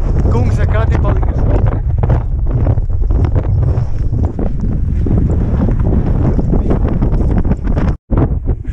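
Strong wind buffeting the microphone at Nordkapp in northern Norway, a loud continuous rumbling roar with gusty surges throughout, while someone talks over it.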